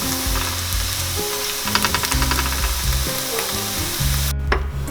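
Freshly chopped onions fry in a pan with a steady, close sizzle and occasional stirring, while background music plays throughout.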